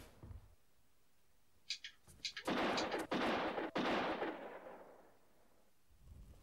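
Light gun shots in the Mad Dog McCree video game on a Philips CD-i: a few quick cracks lead into a loud, sustained burst of blasts and roaring gunfire, which then fades out.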